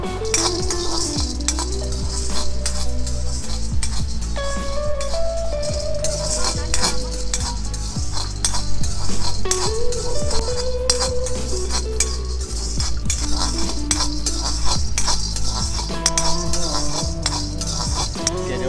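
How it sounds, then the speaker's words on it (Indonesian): Robusta green coffee beans from Kraburi, washed and roasting in a pan, stirred continuously with a metal utensil, giving a close, steady clatter and scrape over a soft sizzle, with no talking. "Goreng kopi daripada kopi bean ni"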